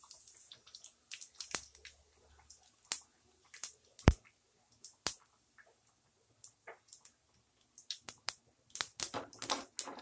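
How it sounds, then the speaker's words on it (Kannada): Mustard seeds and cumin spluttering in hot oil for a sambar tempering: scattered sharp pops and crackles, sparse at first and growing denser toward the end, close and crisp over near-silence. "ನೋಡಿ, ಸಾಸಿವೆ, ಜೀರಿಗೆ ಸಿಡಿತಿದೆ."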